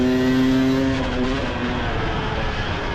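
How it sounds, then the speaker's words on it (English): An enduro motorcycle racing through city streets in Puebla, Mexico, its engine held at full speed in sixth gear, a loud, steady high-pitched roar close by that eases slightly partway through. "You can hear the bike. That was 6th gear, just topped that little double tap."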